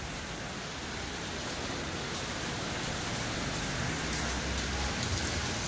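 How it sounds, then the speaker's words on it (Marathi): Steady downpour of heavy rain at an apartment building, a dense continuous hiss of drops on surfaces, even and unbroken throughout with no voices. "म्हणजे कालपासून पावसाचा जोर हा जास्त वाढला आहे"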